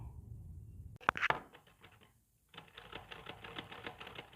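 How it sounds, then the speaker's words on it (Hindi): A sewing machine stitches diagonal seams on a six-panel petticoat, with a few sharp mechanical clacks, a brief pause, then a rapid, steady run of close stitching that continues to the end. "इस कोने से ऐसे तिरछी सिलाई लगाएंगे इस तरह से।"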